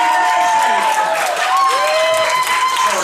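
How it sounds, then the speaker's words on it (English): Audience applause and cheering at a live stand-up comedy show as comedian Tony Marrese is welcomed back onstage, a steady, dense crowd roar that fills the room from start to finish. "Big round of applause for Tony Marrese"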